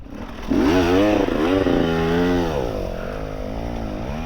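Honda XR 190 L motorcycle engine in third gear at 3-4 thousand rpm, a close, steady droning hum that swells and wavers in pitch as the throttle shifts, continuous throughout.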